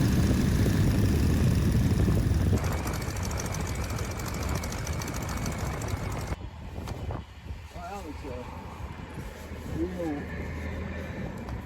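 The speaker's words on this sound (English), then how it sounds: "we're back on the runway, let's taxi to parking" A Stearman biplane taxis along a runway toward parking. A steady, loud radial engine and propeller drone sits under speech, and the noise drops off sharply partway through.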